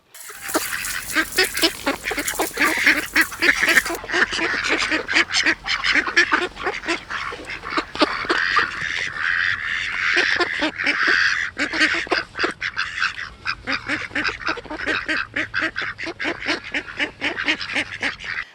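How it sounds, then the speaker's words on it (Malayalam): A flock of Kuttanad ducks quacks constantly and loudly on a farm, with many overlapping calls forming a dense, continuous chorus nearby. "ഇത് താറാവ് ഉള്ളത് കുട്ടനാടൻ താറാവുകളാണ്"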